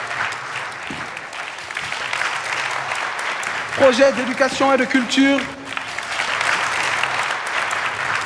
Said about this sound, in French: applaudit très très fort pour eux